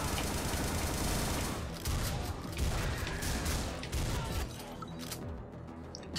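Automatic gunfire in the Xbox One shooter Butcher, rapid dense bursts rattling almost continuously with crashing impacts, fairly quiet overall and easing off near the end.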